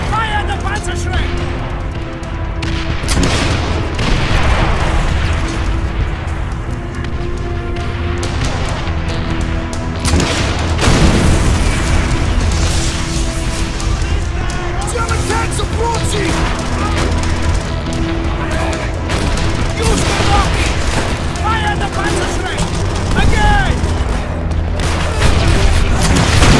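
Panzerschreck rockets and explosions in the World War II shooter Call of Duty: World at War on PlayStation 3 make dense, continuous booms and rumbling blasts with gunfire and shouted voices layered over the loud battle.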